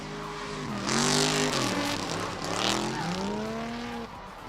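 A teal Nissan G35 and a white Nissan S14 drift side by side in competition, engines wailing and bouncing through rev changes over a steady hiss of tire smoke and squeal, loud and sustained.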